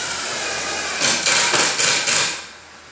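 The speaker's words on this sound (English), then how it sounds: "Impact drill pulls it together nice, makes it nice and tight" An impact drill drives screws into a display case in five quick, rhythmic bursts of hammering rattle. The bursts are loud and close over steady background hiss, then the sound winds down.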